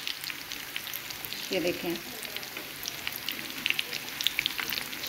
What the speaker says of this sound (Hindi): 5 मिनट मैं इनको दूसरी साइड से फ्राई करूँगी